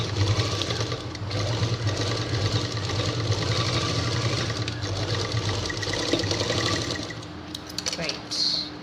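Rapid, steady machine stitching runs continuously on a home sewing machine sewing a small cloth purse, loud and close, with a brief pause and a faint scrape near the end.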